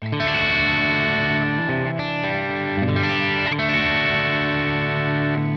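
Sustained electric guitar chords with a lightly overdriven, gritty edge and a touch of chorus, changing a few times, played alone and loud.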